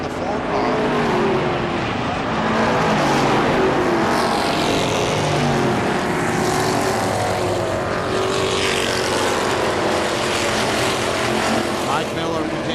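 Race cars lap KilKare Speedway in a Fourth of July event, a continuous loud roar of engines blending as the pack circles, with a commentator talking over the steady din throughout.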